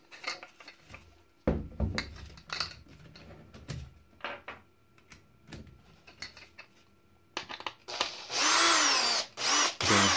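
A power screwdriver drives a screw with a washer into a 3D-printed anchor set in styrofoam: scattered clicks and handling knocks, then a loud, sustained whirring of the driver near the end.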